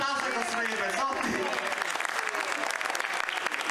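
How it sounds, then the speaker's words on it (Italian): An audience at a cosplay talk during a comic convention bursts into loud, sustained applause, dense clapping filling the whole stretch, with a few voices calling out over it early on. "Un applauso ai Cosplayer Pezzotti!"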